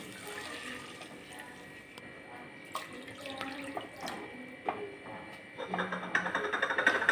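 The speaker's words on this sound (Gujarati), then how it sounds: "ત્યારબાદ આપણે બે કપ જેટલું પાણી એડ કરીશું" Two cups of water poured into sautéed spices in a cooking pot while making a grated-potato dish, a steady running splash with faint sizzling that grows louder and choppier toward the end.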